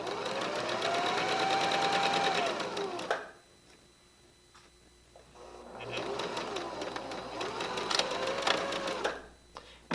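A sewing machine stitches fabric for a quilted pillow in two loud continuous runs, stopping briefly in the middle before starting up again.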